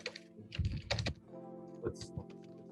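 Fingers type words on a computer keyboard, two quick bursts of clustered key clicks followed by a few scattered taps, close and fairly quiet.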